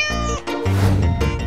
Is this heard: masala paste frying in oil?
no